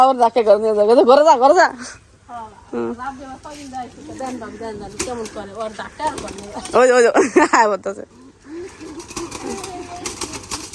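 Pigeons coo up close in repeated throaty bursts, with brief wing flutters and people talking in between.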